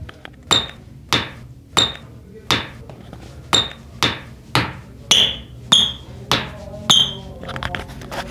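A Specs Metasala Native 5 futsal shoe is tapped about a dozen times at a steady pace, each tap a sharp, close knock with a brief ringing tail, no voices.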